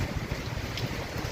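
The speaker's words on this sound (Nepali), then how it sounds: "यसरी हावाहुरी सहितको ठुलो पानी पर्दैछ।" Heavy rain driven by strong wind in Kathmandu, a dense roaring rush with gusty buffeting against the microphone, loud and unbroken, no voices.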